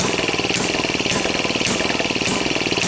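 A restored Maytag engine runs steadily nearby, a loud, even, rapid chugging with a faint rhythmic surge about every half second.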